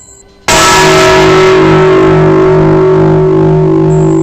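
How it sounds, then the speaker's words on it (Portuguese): A loud bell strikes suddenly and keeps ringing, its sustained tones humming and slowly fading in a steady, resonant wash. "O sino começou a tocar, de repente, sem nenhuma explicação"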